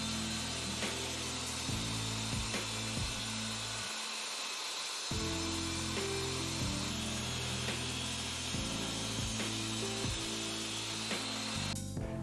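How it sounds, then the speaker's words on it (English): A table saw cuts through a homemade crosscut sled jig, its motor whining loud and steady at close range, then briefly dropping away and returning for the rest of the pass. "I raised the blade of my saw carefully into the sled and made my first cut through the whole jig"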